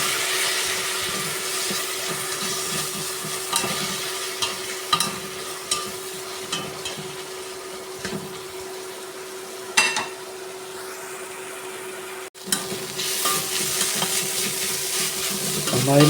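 Liver pieces being stirred into frying masala in a pan, with a steady loud sizzle and repeated spatula scrapes and clinks running throughout, close by with no voice.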